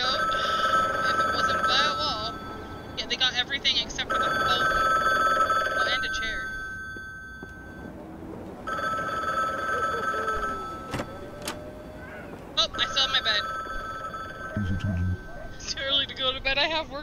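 A telephone rings in the video game The Bookwalker, sounding in repeated bursts of electronic trilling separated by short gaps, steady and fairly loud, while someone talks over parts of it.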